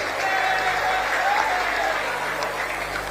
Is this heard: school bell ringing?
no